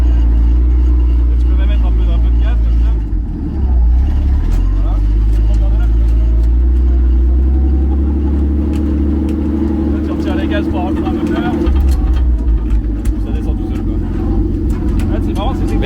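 The engine of a Dodge WC-51 military 4x4 with a straight exhaust gives a loud, low, continuous rumble that rises and falls through gear changes, with people talking over it throughout.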